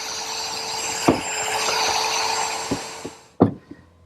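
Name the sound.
router cutting shelf-pin holes in wood with a jig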